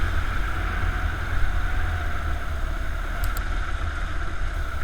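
A 2015 KTM 690 motorcycle engine runs on a test ride through a forest after a fuel system repair, giving a steady, even drone with a low rumble and wind-like noise, constant and fairly loud, with no talking.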